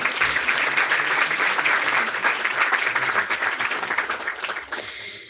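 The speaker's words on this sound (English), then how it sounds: "I want to ask for a round of applause for all these thanks" A round of applause from young attendees at a political youth meeting, steady dense clapping close by that tapers off and stops near the end.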